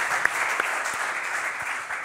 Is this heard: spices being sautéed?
no